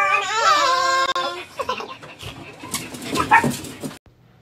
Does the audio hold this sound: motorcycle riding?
no